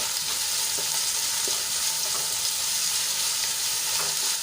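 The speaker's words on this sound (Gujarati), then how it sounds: "અહીંયા મોટી એક ચમચી આદુ અને મરચાંની પેસ્ટ છે એ એડ કરી લઈશું અને સરસ રીતે સાંતળી લઈશું" Ginger and green chili paste sautés in a hot pan while a fasting-style barnyard millet khichdi is cooked, giving a steady, loud, close sizzle and frying crackle throughout with light stirring scrapes and no talk.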